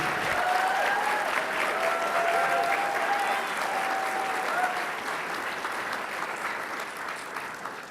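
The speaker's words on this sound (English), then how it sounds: "what an amazing applause" Dense, sustained audience applause fills a university forum hall at UCF as the provost is welcomed on stage, loud and steady before easing slightly toward the end, with no talk over it.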